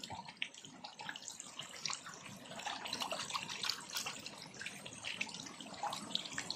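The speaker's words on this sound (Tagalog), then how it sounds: "Ayan, oh, may bula. Oh. Ayan, oh, umukulo." Water gurgles and bubbles steadily inside a ram pump water pipe as trapped air passes through, a continuous rushing, burbling sound with small pops of air, fairly quiet.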